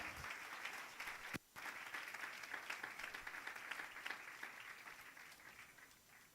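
Church congregation applauding in a continuous, even patter, fairly distant and soft, with a momentary break near the start before the clapping carries on and slowly thins.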